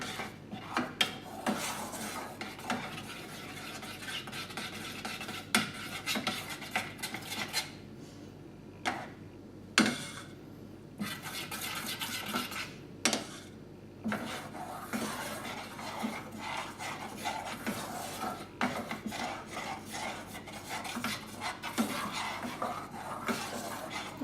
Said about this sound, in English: All I'm doing is distributing the gelatin with the cream and the yogurt.